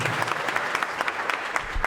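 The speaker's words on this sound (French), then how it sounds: "Applaudissez pour vous-même." A crowd at a back-to-school ceremony claps in a short, lively burst, close and even with individual claps audible, lasting just under two seconds.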